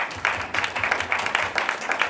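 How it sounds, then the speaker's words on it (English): A round of applause from an audience, with several people clapping in a pulsing rhythm of regular claps that runs steadily through the short stretch. "Let's give them a round of applause."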